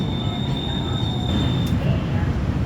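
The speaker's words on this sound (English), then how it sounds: "So we basically are redoing our train journey just in reverse." Steady rumble of a train carrying passengers back from the airport into downtown Houston, with a thin high whine running through the first part of the ride and no breaks in the noise.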